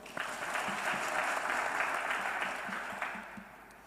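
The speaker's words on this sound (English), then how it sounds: "Can we clap for them?" Audience applause for panelists at a university summit in Homabay County, a short burst of steady, fairly close clapping that fades slightly at the end.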